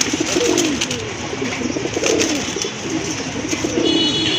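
A pair of Chira pigeons cooing up close, soft repeated throaty coos overlapping against a steady background hum.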